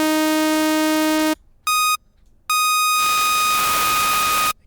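A synthesizer sounds noise modulated by a sawtooth wave as three buzzy, tonal bursts separated by short silences, the last and longest turning into bright hissing noise, loud and close with no talking.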